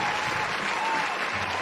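A crowd in a Dungeons & Dragons grand arena cheers and applauds in a dense, continuous roar of clapping that holds steady and loud throughout.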